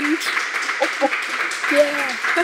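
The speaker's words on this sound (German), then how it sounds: "Jetzt könnte ein Applaus folgen, obwohl wenige hier sind." Small audience applauding after a morning talk in a hall, a dense patter of clapping close by, with voices calling out over it.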